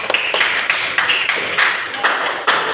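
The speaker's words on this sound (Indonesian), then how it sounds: "tepuk tangan semuanya" A class of students claps hands together in an Indonesian classroom lesson, a run of evenly paced claps close by, steady and fairly loud throughout.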